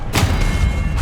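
Confringo spell explosion in Hogwarts Legacy combat, a single loud, close, booming burst that swells quickly and rumbles on for about a second.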